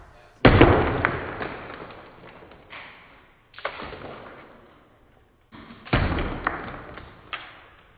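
A gingerbread house gets smashed in three heavy crashing impacts, each followed by a rattling spill of debris that fades out before the next hit.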